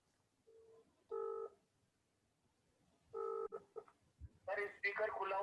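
Telephone keypad tones sound in two short bursts, the second a quick run of three or four presses, before a voice cuts in at the end with talk on a call setup.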